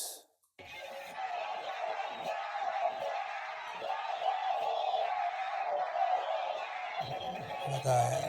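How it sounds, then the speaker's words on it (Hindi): A huge crowd at a West Bengal election results celebration roars and cheers continuously, a dense wall of shouting voices that holds steady at a loud level after a brief quiet start. "मतलब इतना भीड़, इतना पागलपन मुझे नहीं लगता मैंने कभी देखा है"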